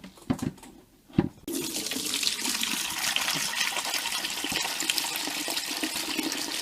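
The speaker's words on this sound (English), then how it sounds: "Now we can use a bucket to get the water out." Rinse water pours steadily from a Carpigiani ice cream machine into a bucket during cleaning, a continuous loud splashing gush that begins after a second of quieter handling noises.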